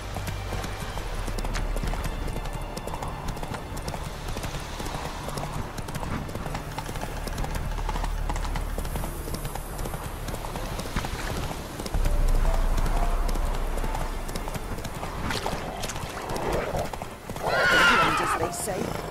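Horse hooves clip-clop steadily on the ground in The Witcher 3, with a whinny near the end, close and moderately loud over a constant background bed while a voice talks intermittently.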